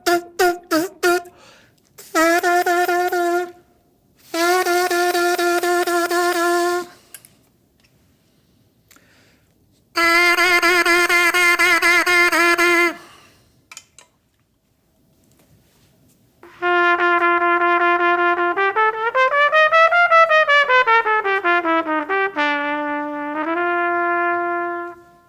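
A trumpet plays sustained tongued notes in separate bursts, starting with a few short detached blasts, then longer held tones and a bending phrase near the end, with silent gaps between the phrases.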